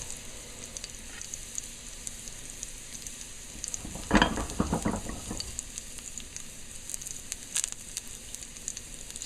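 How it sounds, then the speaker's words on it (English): Cumin seeds and garlic frying in hot oil for daal, a soft continuous sizzle with a louder burst of crackling midway when more is added, close and without talk. "So it's frying there, and I'm gonna add a little garlic along with it."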